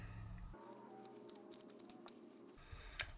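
Scissors snip through a pad of steel wool, producing faint scattered crisp clicks and scratchy cuts over a quiet room background for a few seconds.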